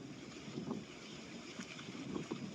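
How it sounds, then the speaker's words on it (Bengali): Wind gusts steadily across a rural road lined with green paddy fields, a soft, continuous rush buffeting the microphone at low level with no voices. "কি বাতাস বইতেছে না?"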